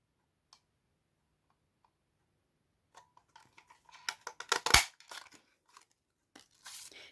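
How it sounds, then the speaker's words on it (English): A handheld paper punch bites through heavy cardstock: a few faint ticks as it is positioned, then a sharp crunching snap with quick clicks, followed by light papery rustling. No one speaks. "Now I can see where I should place my paper punch"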